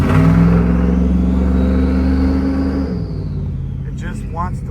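A lifted Ram 1500 Hemi making around 922 rear-wheel horsepower holds a loud, deep, steady engine drone close up that eases off toward the end, with voices talking over it.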